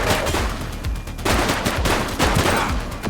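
Rapid bursts of gunfire from the police action video game The Precinct fill the whole stretch, loud and continuous, with volleys repeating one after another.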